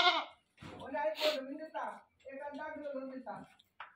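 A newly bought goat bleats several times up close in wavering, drawn-out cries, mixed with people talking nearby.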